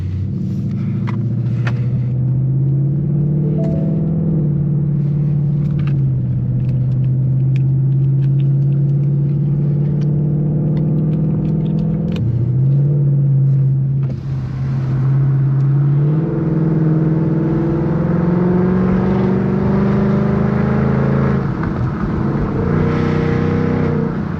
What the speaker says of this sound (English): get a little bit more audio of me driving